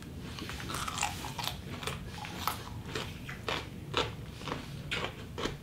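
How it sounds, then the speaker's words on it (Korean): Crisp, repeated crunching bites into crunchy ponytail radish kimchi (chonggak kimchi), each bite a sharp snap followed by chewing, close and fairly quiet, with no talk. "엄청 아삭되네, 알타리라."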